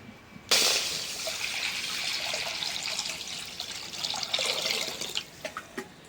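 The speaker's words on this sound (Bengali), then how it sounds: "কড়াইটাকে পানি দিয়ে নিলাম" After a brief quiet moment, water is poured into a wok, producing a steady rushing splash that tapers into trickles and drips.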